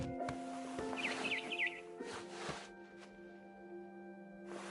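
A barn swallow gives a brief burst of quick, high chirps in the video game What Remains of Edith Finch, fairly faint amid clicks and a low steady hum.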